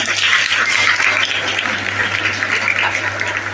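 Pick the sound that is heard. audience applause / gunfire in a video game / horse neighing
audience applause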